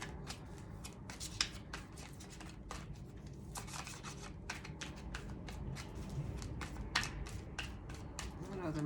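Tarot reading cards shuffled continuously with dense riffling and rubbing at close range, flurries of crisp flicks repeating over a low room hum.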